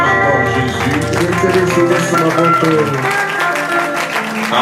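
A church congregation applauds Jesus with dense, steady clapping over a loud musical backdrop, and voices cheer throughout the crowd noise.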